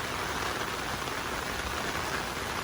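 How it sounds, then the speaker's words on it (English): Heavy rain pours steadily outdoors during a severe thunderstorm with strong winds, a dense, continuous hiss of drops drumming on surfaces, fairly loud and unbroken throughout with no voices. "heavy, heavy rain"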